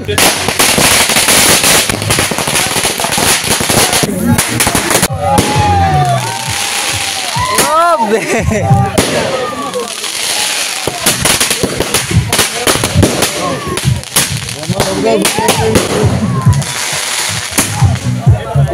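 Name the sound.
firecrackers and fireworks set off at a wedding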